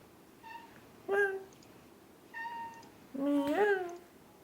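A pet cat meows three times, close and clear, with quiet gaps between; the last meow is the longest and loudest, drawn out into a wavering call.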